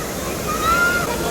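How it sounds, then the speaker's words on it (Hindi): Water rushes loudly at Sahastradhara in a brief, dense roar that stays steady and close throughout. "अभी आवाज़ भी नहीं आ रहा होगा क्योंकि पानी का आवाज़ आ रहा गाइस बहुत तेज।"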